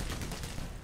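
Gunfire in the shooter game Black Mesa rattles out in a brief, dense burst of rapid shots, loud and close for under a second.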